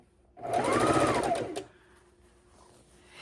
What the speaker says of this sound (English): I find chain stitching so incredibly much easier